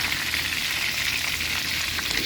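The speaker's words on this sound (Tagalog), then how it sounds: "Lubog sa mantika para masarap." Barracuda fish roe deep-frying fully submerged in hot oil gives a dense, steady, loud sizzle with fine bubbling crackle, continuous throughout and without talk.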